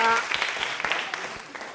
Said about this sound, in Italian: facciamo un applauso a Luigi